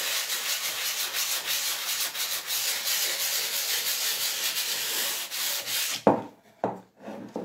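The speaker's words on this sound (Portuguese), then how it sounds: "Pode ser uma 220, pode ser uma 400, vai lixar circular" A wooden medicine box is sanded in circular strokes with fine 220 or 400 grit sandpaper, giving a steady, close, rhythmic rubbing hiss that stops near the end, followed by a few scattered scrapes.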